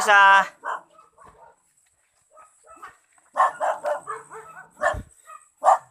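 Several dogs barking on a mountain trail, short sharp barks and yips in scattered bursts, fairly near, with a brief voice at the start and quiet gaps between.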